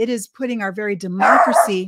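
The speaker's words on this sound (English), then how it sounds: "that's my dog" A dog barks in a short burst partway through, breaking into a man's continuous speech at close range.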